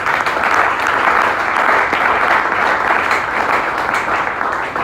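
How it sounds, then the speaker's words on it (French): A church congregation applauds in acclamation of the Lord, a loud, close, continuous wall of many hands clapping that stays level throughout, with no voices rising above it. "On acclame le Seigneur."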